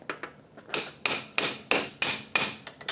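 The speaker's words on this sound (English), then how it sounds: "a socket extension and a hammer, and just tap the axle bolt out." A hammer taps a socket extension to drive out the axle bolt of a 2001 Kawasaki Ninja 250, six or seven sharp, close metallic strikes at an even rhythm with no talking.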